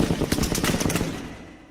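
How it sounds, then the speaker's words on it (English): Heavy automatic gunfire rattles in rapid bursts, loud and close at first, then trails off into a fading echo. "when the sound of heavy gunfire erupted."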